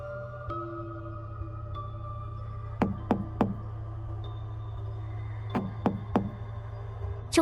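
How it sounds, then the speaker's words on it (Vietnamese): A door is knocked in two sets of three sharp raps over a low steady hum, close and distinct, separated by a pause of about two seconds, with no voices. "tiếng gõ cửa lặp đi lặp lại"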